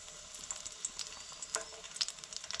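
Garlic sizzling in hot oil in a pan during home cooking of a vegetarian thali meal: a steady, bright frying hiss with small crackling pops throughout, fairly close and alone.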